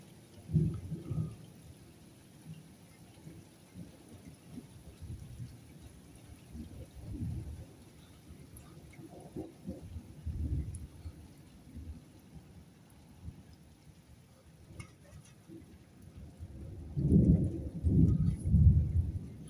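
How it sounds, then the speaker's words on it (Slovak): A night thunderstorm: low rumbling thunder rolls on and off over steady rain, with a heavier, louder peal building near the end and no speech. "Sú hrmoty a tu už vidím, že hen tam už uteká."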